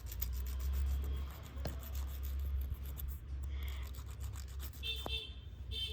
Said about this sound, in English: Like this we have to file our fingers very nicely. This is called buffing.